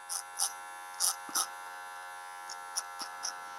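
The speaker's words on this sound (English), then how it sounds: "with the adjustable clipper" An adjustable electric clipper trims a beard in short separate buzzing passes, several bursts in a row with pauses between, close and fairly quiet, with no speech.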